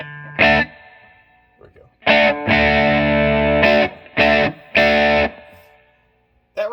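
Electric guitar played through a Marshall JTM60 amplifier at its lowest gain setting with reverb turned down, giving several ringing, lightly driven chords and sustained notes separated by pauses, with a brief spoken remark early on.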